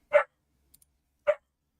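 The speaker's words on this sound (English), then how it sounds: "My dog is pissed." Dog barking indoors, two short sharp barks about a second apart, fairly close, with silence around them.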